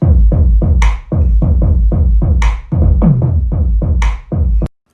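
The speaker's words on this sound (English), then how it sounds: "Now put together in a little beat, it sounds like this." Kick drums from a modular synthesizer built with Make Noise modules play a punchy repeating beat, with booming low thumps and sharp bright clicks in a steady rhythm, loud and alone.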